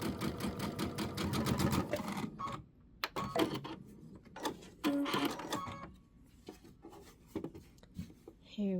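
A sewing machine stitches quilt binding on a star-spangled scalloped-border quilt. It runs in a fast, rattling burst, then in short stop-start runs with pauses between them, and a voice speaks at times.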